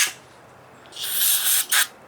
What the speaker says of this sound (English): A little brake cleaner.